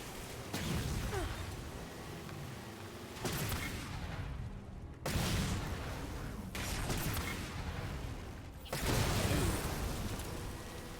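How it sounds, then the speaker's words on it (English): Explosions and gunfire from the video game Halo 4, with several loud broadband blasts bursting in roughly every one to two seconds over a continuous roar of combat noise. "Explosions."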